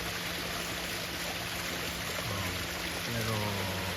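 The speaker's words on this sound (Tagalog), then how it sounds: "Yun, may tubig dito." Water runs at a farm in Tagaytay City, a continuous rushing trickle with a steady tone over it, while someone talks quietly through part of it.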